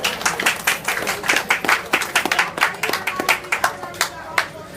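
An outdoor community outreach crowd gives a round of applause, dense and lively clapping with some voices mixed in, rising strongly and then thinning over nearly five seconds.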